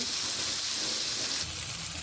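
Eggplant pieces fry in oil in a pan with a loud, steady, close sizzle and hiss that runs without a break.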